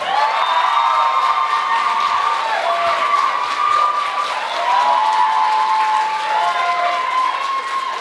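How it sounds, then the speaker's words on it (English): An audience at a pageant contest breaks into sustained loud applause mixed with cheering and whistles, continuing steadily throughout. "give a very big round of applause for contestant number 5 here tonight"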